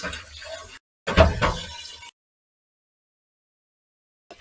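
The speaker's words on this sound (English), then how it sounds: "Anyway, let's pour this out." Hot water is poured out of a cooking pot in two short splashing bursts, close and fairly loud, then silence.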